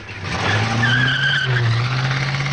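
A car skids and drives off, its tires squealing over a rising engine roar in one loud, close burst lasting a couple of seconds.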